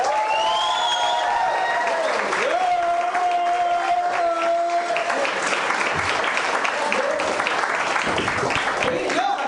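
A theatre audience applauds a comedian at a live comedy show, loud sustained clapping with some cheering and whistles, while a voice talks over it.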